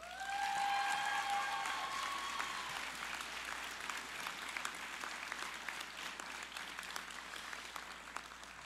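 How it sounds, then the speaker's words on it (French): An audience applauds at a university graduation ceremony in a hall, sustained clapping that stays steady and then slowly fades, with a few brief tones sounding at the start. "On peut les applaudir."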